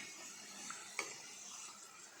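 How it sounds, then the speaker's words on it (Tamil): Spicy crispy potato snacks frying in hot oil, a faint steady sizzle with a couple of small clicks of a utensil against the pan, no voices. "இது போல் நல்லா பொரிஞ்சு வந்ததும் எடுத்துடலாம்."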